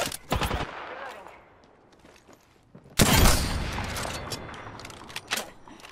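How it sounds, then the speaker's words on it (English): Bursts of automatic gunfire in Apex Legends, a rapid volley early on and a louder, heavier burst midway followed by scattered shots, with in-game voice lines mixed in. "Getting shot at."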